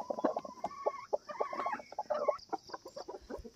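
Free-ranging hens in an open poultry yard where eggs have just been laid cluck in a busy, overlapping series of short calls, fairly close and continuous, with no talking.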